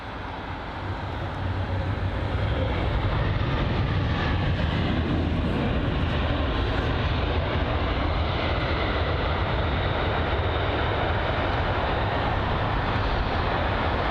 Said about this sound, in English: it's the Royal Brunei 7878 Dreamliner from, I think it said Dubai